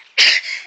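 A single short, sharp sneeze, close and loud, with a breathy hiss trailing off afterward.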